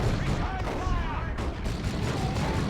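Battle in the Warhammer 40,000: Dawn of War 2 video game: steady, dense gunfire and explosive launcher blasts form a continuous loud din, with no clear breaks.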